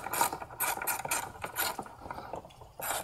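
A screw on a VW/Audi 2.0T TSI intake manifold is tightened with a number 5 Allen key, producing close, rapid ratcheting clicks in short repeated bursts.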